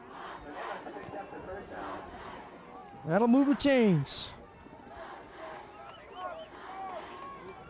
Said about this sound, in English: the Mustang crowd is just fired up